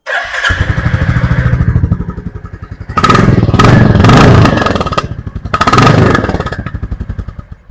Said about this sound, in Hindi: तो इसको भी स्टार्ट करके हम आपको साउंड सुनाते हैं